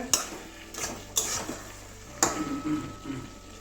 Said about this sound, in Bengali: এবারে ঢাকনাটা খুলছি